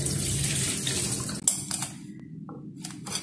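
Basmati rice is rinsed in water, with splashing and pouring at the start followed by a few short clinks and sloshes near a sink, close and fairly loud.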